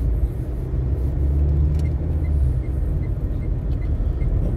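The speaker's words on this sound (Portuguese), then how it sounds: "Caminhão da Scania aí passando." A Scania truck rolls past on a town road, a heavy close rumble of engine and tires that swells and eases, with faint ticking and hiss above, and nobody speaking.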